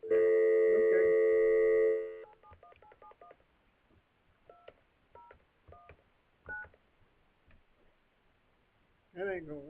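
A telephone is dialed: a steady dial tone gives way to a quick run of DTMF keypad tones, then sparse tone bursts, and a voice cuts in near the end.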